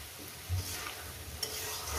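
Turmeric fries in a pan for a vegetarian okra and poppy-seed dish, a faint steady hiss with a couple of soft stirring knocks, quiet and without speech.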